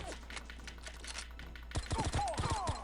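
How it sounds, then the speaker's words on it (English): A rapid burst of gunshots in the video game 007: The World is Not Enough fires near the end, after a quieter stretch of faint clicky shots, sharp and close with ricochet-like whines. "I can see them shooting now"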